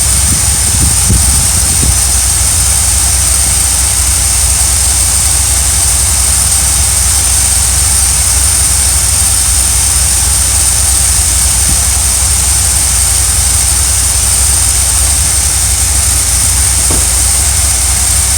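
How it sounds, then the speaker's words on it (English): An RV engine idles with a continuous low exhaust rumble from the tailpipe, loud and unchanging throughout. "It does sound real good out the tailpipe."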